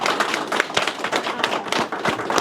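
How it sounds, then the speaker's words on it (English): A seminar audience on luxury real estate gives a round of applause: close, uneven clapping from a modest group, with individual hand strikes audible in a loose, irregular patter and no speech. "I just want to thank everyone with a big round of applause."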